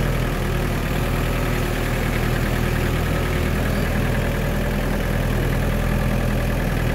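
A small red tractor's engine chugs at a steady, loud idle-like rumble with a constant low throb, close up and unbroken while it moves through mud, with no talk over it.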